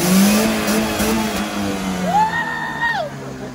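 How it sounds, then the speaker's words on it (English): A truck engine revs up hard and holds, its pitch climbing and falling under a loud, steady roar close by, with no talk over it. "Want me to rev it all the way?"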